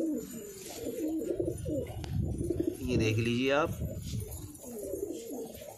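Large king-size pigeons coo in a loft, their soft rolling calls rising and falling close by while someone talks over them throughout.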